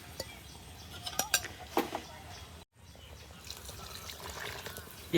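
Water is poured into a pot of mutton curry while cooking outdoors in a village garden, with a brief trickling splash followed by pot clatter and faint birdsong.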